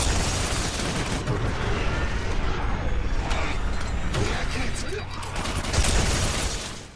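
Weapon fire from the dark matter gun in the game Doom, a dense, rumbling burst of heavy blasts and mechanical clatter that keeps up throughout, partly under a voice talking.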